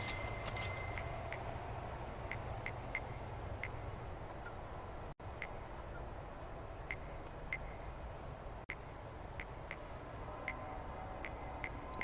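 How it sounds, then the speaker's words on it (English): Chapel church bells in the prison game Prison Architect ring as faint, scattered high dings and chimes over a steady low background hum. "See, church bells."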